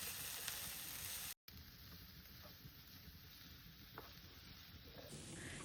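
Chopped potato and carrot sauté in a pan with a soft continuous sizzle and hiss, faint and close, broken by a brief dropout and a few light stirring clicks, no talk.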